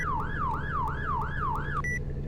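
Yelp police siren in the Roblox game ER:LC, fast repeated whooping sweeps, about five quick cycles over a low engine rumble, cutting off into a brief steady beep at the end.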